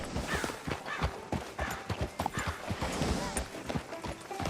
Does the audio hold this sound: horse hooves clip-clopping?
yes